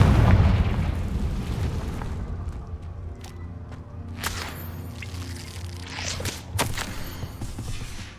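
A Confringo fire spell detonates in Hogwarts Legacy, a heavy low boom with rumbling blast at the start, followed by lingering crackles, debris rattles and a few sharp pops fading out.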